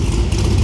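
A Holden SS VU with a revived engine and driveline idles close by, giving a steady, low mechanical rumble with no speech over it.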